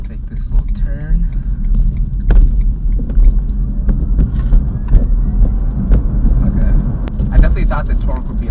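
A BMW i3 electric car rounding a turn, a steady low road-and-cabin rumble heard from inside, loud and continuous, with a voice talking over it in places.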